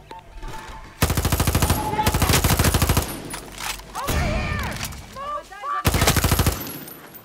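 Rapid automatic gunfire from a weapon in the video game Far Cry 6 rattles out in two long loud bursts, then a third after a pause, with game voices and effects in the gaps.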